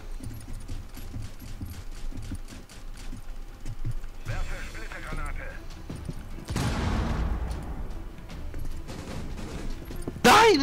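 Gunfire crackles in a Rainbow Six Siege match, with rapid bursts of shots and a louder blast with debris partway through, over a busy game background while players talk.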